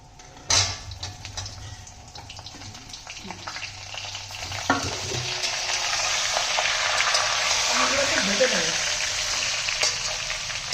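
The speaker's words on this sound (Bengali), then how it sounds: "দুটো শুকনো লঙ্কা দিয়ে দিলাম পাঁচ ফোড়ন আর দুটো তেজপাতা" Dry red chillies, panch phoron and bay leaves hit hot white oil in a pan for green mango pickle, starting with a few clinks and crackles, then swelling into a loud, steady sizzle up close.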